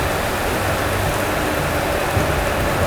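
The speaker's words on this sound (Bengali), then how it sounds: "দেখো মারাত্মক জোরে বৃষ্টি নামলো" Heavy rain pours steadily onto a train approaching Santragachi station, a dense continuous hiss close to the microphone with a low rumble underneath and no voices.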